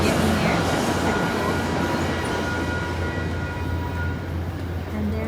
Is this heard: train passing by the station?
yes